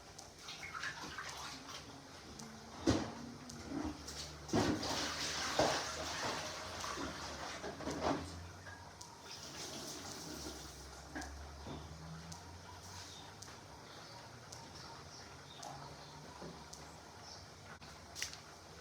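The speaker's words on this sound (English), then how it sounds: "Let me wash my hands." Tap water runs steadily into a kitchen sink as hands are washed beneath it, with splashing and a few louder knocks early on, fairly quiet overall.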